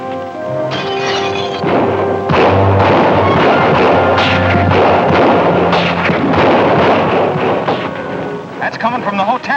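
Rapid bursts of gunfire from hotel windows in a 1949 western film, loud and dense with overlapping shots and echoing booms, while voices shout under the shooting.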